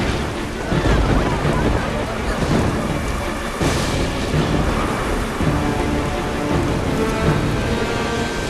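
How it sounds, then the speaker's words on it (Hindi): A fierce storm of heavy rain pours down steadily with rolling thunder rumbling through it, loud and close, and a voice is faintly heard beneath the downpour. "ये तूफान तब तक थमना नहीं चाहिए जब तक वृंदावन पूरी तरह पानी में डूब न जाए।"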